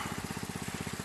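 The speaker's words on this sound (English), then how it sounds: "pumping water. Just got it at idle." A 2000 water pump engine idles steadily at a gold trommel prospecting camp in Alabama, its low, even chugging pulsing in a fast regular rhythm, close and continuous with no talking over it.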